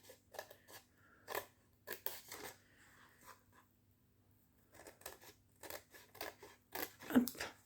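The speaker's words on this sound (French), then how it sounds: "soit vous prenez le ciseau" Scissors snip through decorative paper for a handmade advent calendar box, in a series of short crisp cuts separated by pauses, close and fairly quiet.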